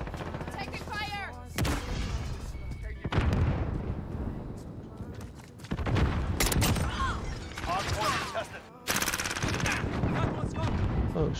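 Heavy automatic gunfire and explosions in Call of Duty: Modern Warfare II multiplayer on a Hardpoint match, loud repeated bursts with short gaps, mixed with in-game voice callouts.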